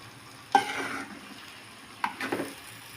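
Eggs stirred and frying in a pan: two soft bursts of scraping and sizzle over a quiet, low background.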